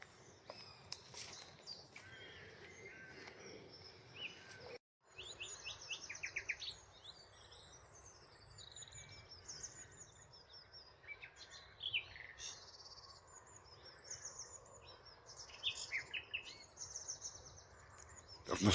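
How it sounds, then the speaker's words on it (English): Nightingales singing in early morning at RSPB Rainham Marshes, bright warbling phrases and whistles repeating over a steady insect-like background hum, with a brief dropout near the start and no talk. "There is really good numbers of nightingales this year."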